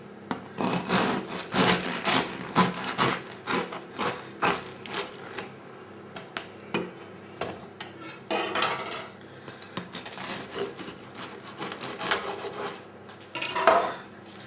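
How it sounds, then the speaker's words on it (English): A knife saws through a crusty loaf of roasted chestnut bread, giving repeated close, crunchy rasping strokes in bursts, with brief pauses between cuts and no talking. "So let's cut it open and see what it looks like."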